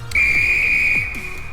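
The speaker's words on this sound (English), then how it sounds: "Blow your whistle." A train guard's whistle in the Roblox SCR train game gives one loud, steady, high blast that lasts over a second before cutting off.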